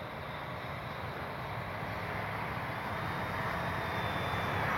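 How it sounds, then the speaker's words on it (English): A steady electric whine of a small electric RC model airplane on a 3S battery at about three-quarter throttle, continuous and fairly loud, with wind-like rushing noise and no talking. "But definitely a happy little flyer on 3S. About 3/4 throttle now."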